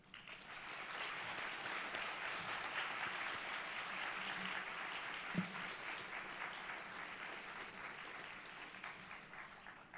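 Law school graduates applaud their faculty, family and friends at a graduation ceremony, a steady, moderately distant wash of clapping from a large hall that holds evenly for the full ten seconds.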